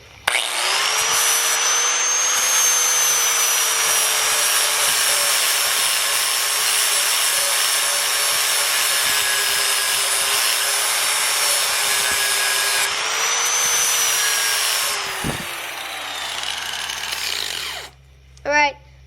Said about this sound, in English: So you're gonna take your angle grinder and you're gonna go like this again.